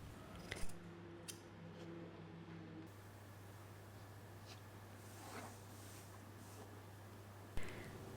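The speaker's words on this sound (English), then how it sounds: "Then cut out the squares." Scissors cut fabric squares at the corners of a reversible tote bag, making a few faint, sparse snips against a quiet background hum.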